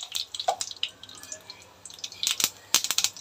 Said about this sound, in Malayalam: ഇതിലേക്ക് വെളിച്ചെണ്ണ ഒഴിച്ചിട്ട് ഇച്ചിരി കടുകും